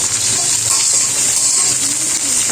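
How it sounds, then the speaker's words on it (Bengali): Pointed gourd and potatoes frying in hot oil, a steady dense sizzle running throughout with occasional faint scrapes and clinks, close and fairly loud with no talking. "তার জন্য প্রথমে আমি পটলটা আলুটাকে ভেজে নিচ্ছি ভালো করে"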